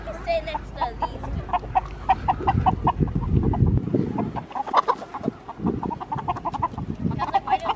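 Several chickens cluck and chatter nearby in short repeated bursts, with scattered soft background noise and no clear talking.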